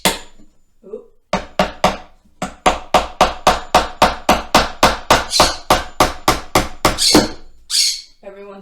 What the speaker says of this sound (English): Just nail it in there.